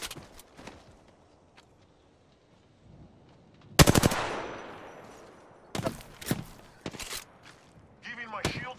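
Apex Legends gunfire: a loud close burst of automatic shots with a ringing tail, then scattered single shots and short bursts, amid quiet movement and footsteps, with a voice speaking briefly.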